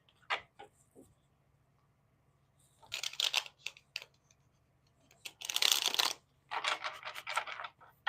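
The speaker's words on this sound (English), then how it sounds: "Let me just shuffle one more time." Tarot cards are shuffled by hand in a few quiet, brisk bursts of riffling and scraping, separated by short pauses, close and alone.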